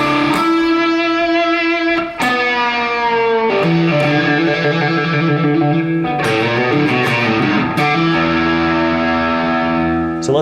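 An electric guitar plays a rock solo lick, with distortion and effects, sustained bent notes and slides, loud and close, with no talking.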